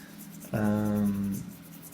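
A soft pastel drags across a sandpaper surface in a single sustained stroke, producing a close, buzzing, tonal scrape that lasts under a second amid quiet surroundings.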